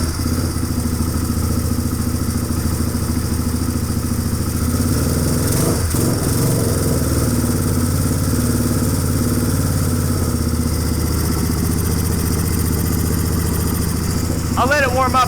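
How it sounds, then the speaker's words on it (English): A backfiring dirt bike idles unsteadily up close, its engine chugging with an uneven, lumpy rhythm and mechanical clatter throughout, with a brief rev-like surge near the end. "It sounds like the idle is still unsteady"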